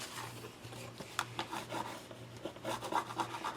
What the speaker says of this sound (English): I'm just rubbing that off only so it doesn't get on my bone folder